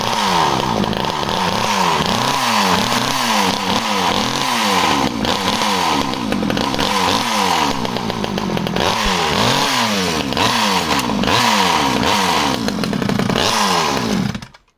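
A secondhand chainsaw engine, bought as spares or repair, runs close and loud, revving up and down repeatedly in quick rising and falling surges between idling spells before cutting off at the end.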